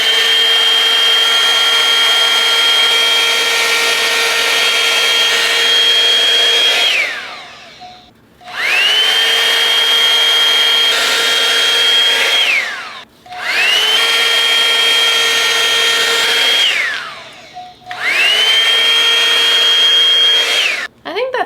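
A Revlon One-Step Air Straight hot air tool running on curly hair blows a loud, steady whirring hum in three long passes, cutting out briefly between each one.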